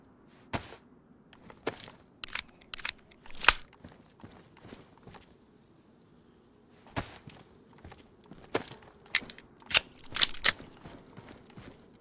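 Sharp Makarov pistol shots crack out in DayZ, sparse, scattered cracks and knocks spread across the clip in two loose clusters, loud against near-silence, with light handling clicks between them.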